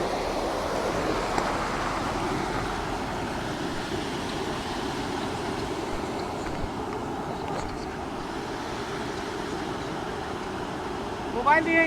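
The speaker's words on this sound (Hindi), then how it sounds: "तो वहाँ पे ये वाटरफॉल है और ये बड़ा वाटरफॉल है।" A large waterfall swollen with heavy rainwater rushes in a constant dense roar that fills the whole clip without a break.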